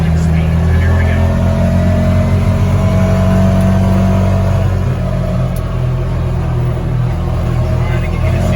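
A car with an MSC Stage 1 clutch kit and updated spring rolls along at around 30 mph on a test drive, its mid-range engine droning steadily and loud throughout with road rumble underneath.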